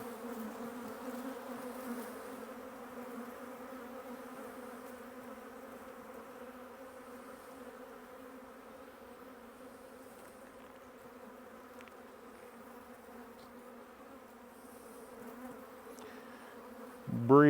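Honeybees stirred up during a hive inspection make a steady, dense buzz close by that runs unbroken throughout, with a brief louder rustle at the very end.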